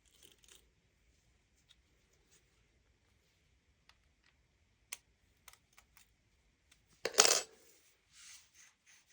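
Quarter coins are handled while a Whirlpool Maytag washer's suspension rods are repaired. Faint scattered clicks and taps lead to a louder clattering burst of coins, all quiet, with no talking.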